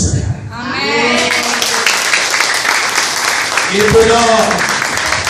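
An audience at a church sermon gathering in Surabaya breaks into applause, a dense continuous wash of clapping that fills the space, with a voice briefly speaking over it.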